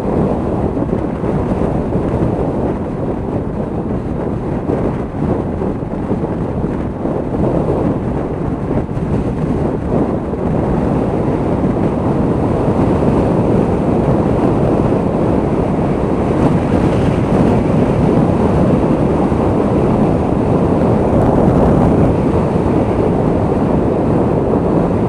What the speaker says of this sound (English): That's just the wind condition